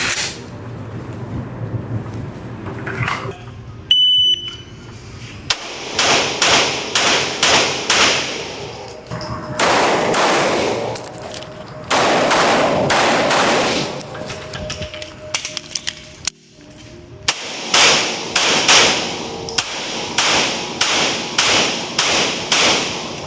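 Glock 17 Gen 6 pistol fired at a shooting competition: several strings of sharp, loud shots in quick succession with brief pauses between strings, echoing in an outdoor range.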